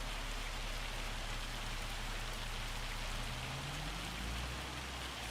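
Steady rain-snow mix falling in Farming Simulator 25, a dense continuous hiss of precipitation with a low rumbling undertone, even and unbroken throughout.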